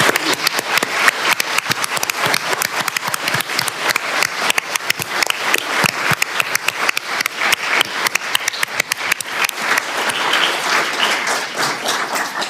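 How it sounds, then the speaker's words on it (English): Audience applause for parents at a Senate Appropriations Committee hearing on ending type 1 diabetes. A crowd claps loudly and densely, in a sustained ovation that runs steadily throughout. "join me in giving a huge round of applause to your parents"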